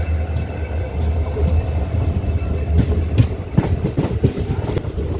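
A train rolls in toward platform 1 at Punalur station, a steady low rumble with clicking wheels building over the last couple of seconds, heard from nearby on the platform.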